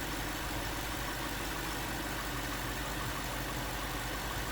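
A Lexus LS430 engine idling during intake manifold service, a steady, even hum with no variation and no voices.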